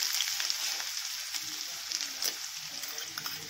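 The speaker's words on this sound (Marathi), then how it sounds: "लसण टाकल्यानंतर काय करायचं, आपल्याला हे थोडं परतून घ्यायचं आहे" Garlic sautéing in a pan for paneer veg momos, a bright steady sizzle with small crackles and pops, fairly faint and close.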